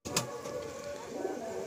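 Pigeons coo softly at close range in a loft among birds for sale, with a short sharp call near the start and a low steady murmur of other birds throughout.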